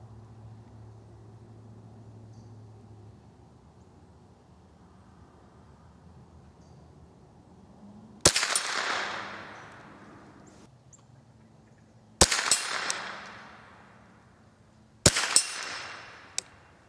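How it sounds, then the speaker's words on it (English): Three sharp .22 rifle shots with Sellier & Bellot Club ammunition at an outdoor target, well spaced cracks each followed by a short fading echo over a quiet background. "I'm going to shoot a few shots at that center target first"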